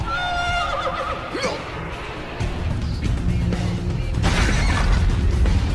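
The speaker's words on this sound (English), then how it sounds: "There goes the horse." A horse whinnies early on with a rising and falling cry over a busy, noisy background of rumbling and crashing sounds, followed by steady clatter and movement throughout.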